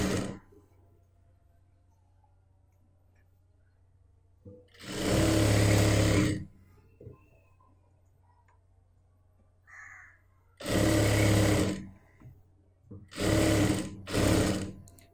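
Short bursts of a sewing machine stitching fabric from an old dupatta, three separate runs of about a second or two each, loud and close, with near silence and a faint cawing bird in between.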